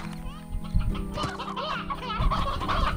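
Chickens in the Slime Rancher video game cluck in a busy overlapping flurry of short, choppy calls over steady game background sound, fairly loud and close.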